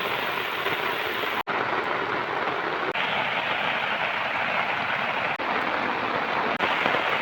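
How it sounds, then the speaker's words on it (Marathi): Heavy monsoon rain pours down steadily beside a flooded river, a dense, loud, unbroken hiss that fills the scene with no voices. "पाऊस भरपूर पडतोय, मुसळधार एकदम पडतो पाऊस"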